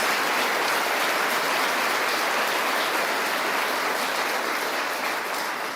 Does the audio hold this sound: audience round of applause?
yes